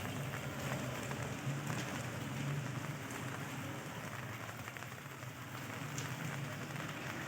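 Steady light rain patters on surfaces, a soft continuous hiss with scattered drops, no voices.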